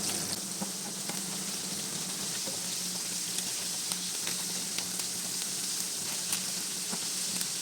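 Prawns fry in a hot pan of oil with a steady, close hiss, broken now and then by sharp pops and crackles, and no voices.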